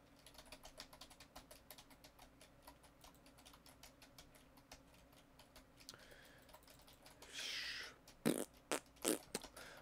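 Rapid clicky keystrokes on a computer keyboard picked up by a cheap microphone under test, a long run of fast typing followed by a short rustle and a few louder heavier clicks.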